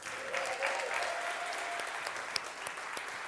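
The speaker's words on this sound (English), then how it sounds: "Let's give Leonard a round of applause." An indoor audience at a speaking event applauds with steady, dense clapping that stays even from start to finish, with a voice faintly heard over it.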